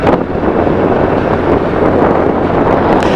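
Strong wind blows outdoors on a cloudy evening, buffeting the microphone with a loud, continuous roar and rumble that holds steady throughout, with no voices.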